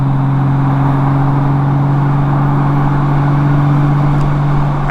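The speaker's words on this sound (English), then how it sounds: "I'm just out here cruising on the Honda Goldwing" Honda Goldwing motorcycle cruising in traffic, a steady, loud low engine drone with a constant hum and rushing wind noise throughout, with no talking.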